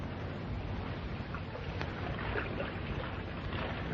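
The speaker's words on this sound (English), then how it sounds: "I'll paddle off in the lake and wait for a signal." A wooden canoe paddled off across a lake as a radio drama effect, heard as a steady wash of water noise with soft splashing that carries on evenly throughout, with no voices.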